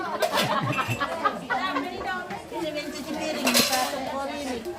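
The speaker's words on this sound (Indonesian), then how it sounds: "Oh, mencuci piring ya." Dishes being washed by hand, with plates, pots and cutlery clinking and clattering continuously at close range, while people chatter and chuckle in the background.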